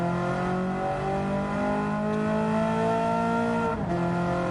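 A Ferrari 308 GTB engine in a racing video game drones loudly and steadily at high revs, holding its pitch, then dips sharply for a moment near the end before climbing again.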